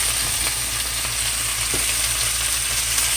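Chicken and red potatoes sizzle steadily in hot oil in a pan, a continuous close frying hiss with faint occasional stirring scrapes and no talking.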